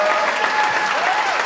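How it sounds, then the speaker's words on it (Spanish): A church congregation applauds in a dense, continuous wash of clapping and cheering, with a faint voice or tone carrying through. "Den un aplauso a Jesús."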